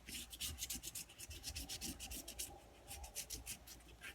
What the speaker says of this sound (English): Take my bone folder, rub that down.